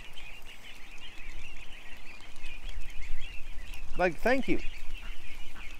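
A couple of ducks give brief loud honking quacks near the end, close by, over steady outdoor background noise, while a person speaks briefly.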